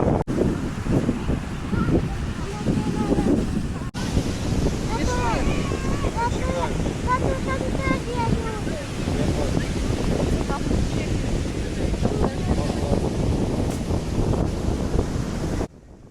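Ocean surf and wind roar steadily on a beach, with constant wind buffeting the microphone and a voice talking over the noise throughout.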